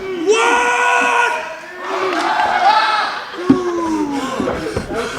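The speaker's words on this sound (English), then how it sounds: "Just heard that primal-like scream" A wrestler lets out loud, drawn-out primal screams at a CZW wrestling event, several raw roaring bursts with an arena crowd murmuring and reacting beneath them.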